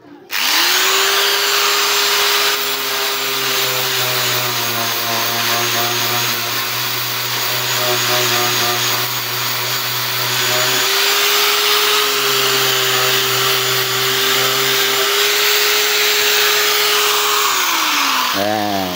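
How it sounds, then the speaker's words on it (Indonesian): A grinder fitted as a sander whirs loudly and continuously on wood for a miniature sound system box, a steady high motor whine with slight pitch shifts, winding down at the very end. "ini lebih cepat pakai mesin amplas Gerinda"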